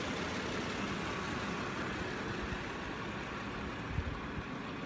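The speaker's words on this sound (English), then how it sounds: "Very impressive engine." A luxury car engine idles steadily at close range, a low, even rumble with a faint broadband hiss and no talk over it.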